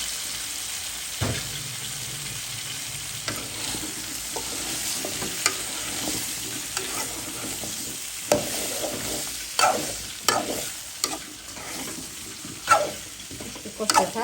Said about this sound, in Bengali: মশলাটা একটু কষু, তারপরে মিষ্টি কদুটা দিয়ে দিব। ঠিক আছে, দিয়ে দিলাম মিষ্টি কদুটা।